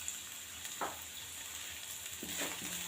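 Chopped onion sautéing in hot ghee in a kadhai, a steady soft sizzle and crackle throughout with a couple of brief stirring scrapes, no talking.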